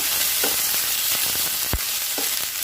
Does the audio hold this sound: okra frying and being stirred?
yes